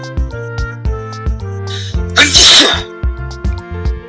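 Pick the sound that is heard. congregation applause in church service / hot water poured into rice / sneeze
sneeze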